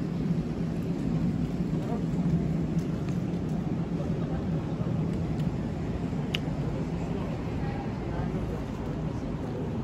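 Steady rain falls outdoors on a cold day, a dense, even hiss that runs unbroken throughout with a low rumble beneath, while voices seem to talk faintly in the background.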